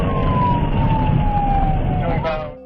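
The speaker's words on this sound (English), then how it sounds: "the officer activated their overhead lights and siren" Police car siren during a dashcam pursuit of a white Camaro, a loud steady wail gliding slowly downward over engine rumble before cutting off abruptly near the end.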